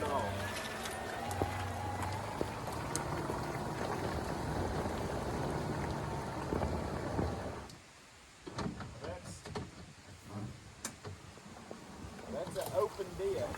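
Electric 48v 4x4 Intimidator UTV with an open diff spinning its wheels in deep mud, a steady whirring and churning for several seconds that cuts off abruptly, followed by quieter squelches and someone talking.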